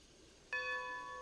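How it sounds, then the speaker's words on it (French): A train bell in the Red Dead game, rung by pulling a cord, sounds once with a sudden clear metallic strike and a sustained ringing tone that lingers. "vous tirez dessus pour faire les cloches"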